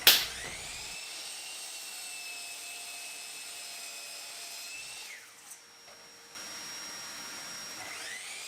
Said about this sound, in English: Mitre saw.